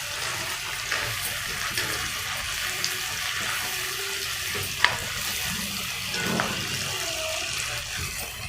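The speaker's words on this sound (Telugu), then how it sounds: "ఉల్లిపాయలు టమాటాలు మగ్గుతున్నాయి" Onions and tomatoes softening in a pan for a stuffed brinjal curry give off a steady, low sizzle, with a few soft stirring knocks and scrapes breaking through now and then.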